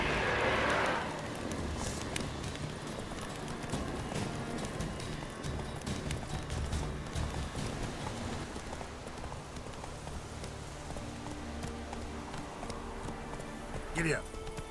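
A horse gallops in The Witcher 3 video game, a steady patter of hooves under continuous rain-like ambience, moderately loud, with a voice briefly speaking over it.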